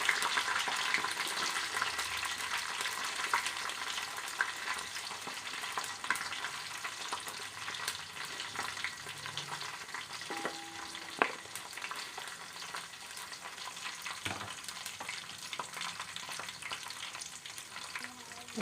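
Onions and green chillies fry in a pan of hot oil for Telangana sambar, a steady close crackling sizzle with occasional stirring clatters and scrapes, running on without talk.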